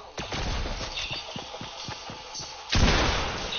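A bomb goes off after a series of rapid, gunfire-like thumps, ending in one loud, close boom that lingers briefly.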